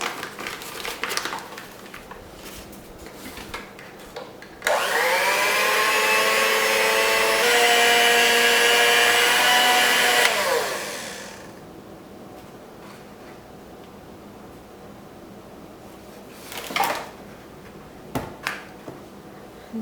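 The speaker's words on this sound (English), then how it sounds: "We are going to whisk all this again." An electric whisk whirs loudly for about six seconds while mixing chocolate chip muffin batter, its motor tone steady before it stops, with scattered scraping and tapping around it.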